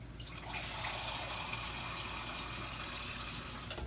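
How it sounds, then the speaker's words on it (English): Water gushes steadily into a pan for smothered chicken gravy, a close, continuous pour with no voices over it. "I'm going to put a little bit more water in here,"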